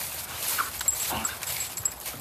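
A short-legged herding dog whimpering, soft high whines and faint yips close by, repeated in brief bursts over a couple of seconds with no talk.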